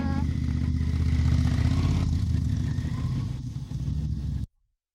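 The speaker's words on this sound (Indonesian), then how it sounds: "Moge merek Ducati ini adalah salah satu motor gede kesukaannya." A big Ducati motorcycle engine holds a steady, deep idling rumble for about four seconds, then cuts off abruptly into silence.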